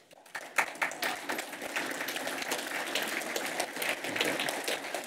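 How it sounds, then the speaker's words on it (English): A conference audience breaks into applause, starting with a few scattered claps and swelling into sustained, fairly distant clapping from a sizable crowd. "I'll make sure he hears this applause, too"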